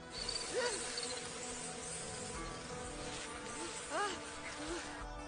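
A swarm of insects in a Naruto Shippuden anime scene, a constant buzzing drone with a few rising, chirping whoops layered over it, moderately loud and without speech.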